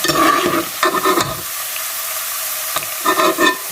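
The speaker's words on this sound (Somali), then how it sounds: "karootadeenii inta shiilantay waan ka saaranaynaa" Carrots frying in a pan for Somali-style rice, with loud sizzling that swells and dips in bursts as a spoon stirs them, pausing briefly to a quieter sizzle in the middle.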